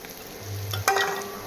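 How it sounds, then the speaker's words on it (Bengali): Masala spices frying in a pan, cooked for a bottle-gourd and egg ghonto: a brief, soft sizzle with a low hum, then a sharper clink or scrape near the end. "মশলাটা দিয়ে অনেকক্ষণ ভাজছি"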